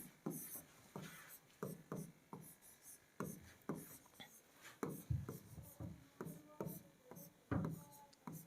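Marker or chalk strokes scratch across a board while letters are written, a steady series of short, close scraping taps in an uneven rhythm.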